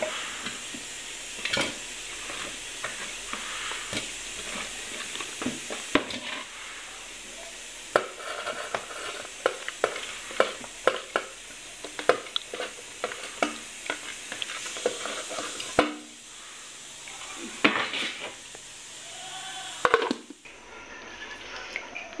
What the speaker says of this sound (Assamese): ইফালে কেৰাহীত তেল বহাই দিছো তেলটো গৰম হৈছে আৰু এটা পিয়াজ কাটি দিছো সৰু সৰুকৈ